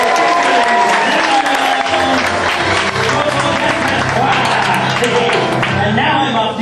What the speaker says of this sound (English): why don't we give him one more big round of applause